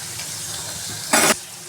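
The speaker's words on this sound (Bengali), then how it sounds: "এটা জাস্ট ভালো করে কুমড়োটা একটু ভেজে নেব" Pumpkin pieces fry in a pan with turmeric and salt, a steady close sizzle with a sudden louder hiss burst midway, then settling back to the even frying.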